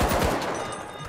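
Gunfire comes from above in The Finals, a quick rattling burst of several sharp shots that leads off the moment and then fades into a fading rumble.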